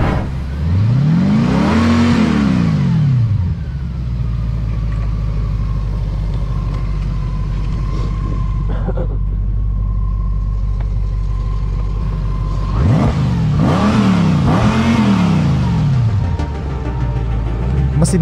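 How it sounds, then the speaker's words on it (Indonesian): A GWM SOUO S2000 with a 2000 cc eight-cylinder engine revs twice: a smooth rise and fall in pitch, then a steady idle, then another rising and falling rev. The sound is close and loud throughout. "Ini mesin pembakaran dalam 2000 cc 8 silinder."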